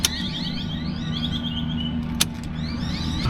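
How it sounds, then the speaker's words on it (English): A car being started and switched to the accessory position after its battery was reconnected, with a steady engine-like hum throughout, rising chirping tones, and a sharp click around the middle. "Now I'm going to start the car."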